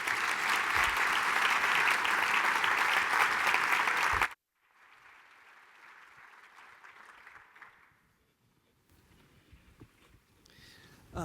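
A defense forum audience at a presidential learning center applauds loudly for about four seconds, then stops abruptly, leaving quieter room sounds and faint clapping that fades out.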